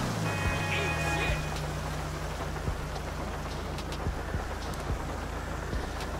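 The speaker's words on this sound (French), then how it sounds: "Bon, dommage, il pleut, mais c'est pas très grave." Steady rain pours down in GTA 5, a dense continuous hiss of drops on surfaces, with a low rumble at the start and occasional sharper drips, alone without talk.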